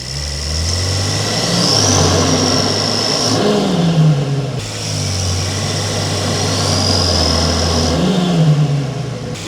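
A turbocharged car engine revs twice, recorded from a mic placed in the engine bay; each rev climbs and holds a loud, rising roar with a whistling turbo whine on top, then drops back, with no one talking.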